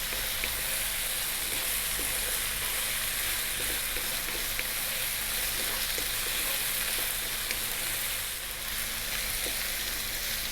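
Sliced onions fry on high heat in a pan, a loud, constant close-up sizzle and crackle that fills the whole stretch without a break, with no voices over it.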